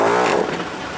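A budget off-road air compressor running off a truck battery whirs with a loud, close motor hum for about a second, then tapers as it keeps running.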